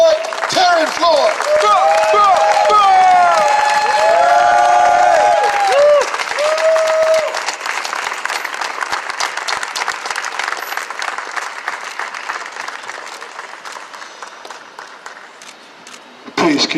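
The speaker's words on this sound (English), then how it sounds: "let's give a round of thunderous applause for the brother of George Floyd, Terry Floyd." Large crowd at a birthday celebration for George Floyd, loud sustained applause mixed with cheers and whoops that slowly thins out, with shouting voices on top.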